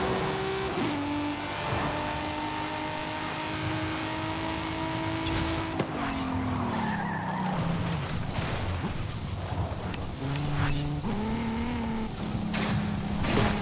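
A new Ferrari sports car in a video game revs and accelerates hard, the engine note climbing and dropping through gear changes, loud and close throughout with no talking.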